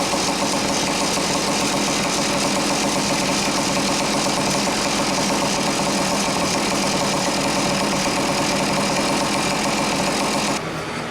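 Restarted Garelli moped engine idling steadily and loudly close by, a continuous buzzing rattle that cuts off abruptly near the end.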